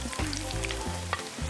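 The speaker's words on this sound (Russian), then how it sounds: "И засыпем лук, который мы нарезали." Chopped onion tipped into hot oil for plov sizzles and crackles loudly and steadily, a close frying hiss with a few sharper pops, no voices.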